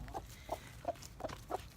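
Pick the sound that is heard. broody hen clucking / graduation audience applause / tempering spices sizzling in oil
broody hen clucking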